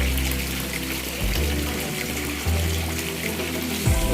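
Water pours through a 3-inch PVC pipe into a concrete tilapia pond, a loud continuous rushing splash with slight surges in flow, heard close and alone without talking.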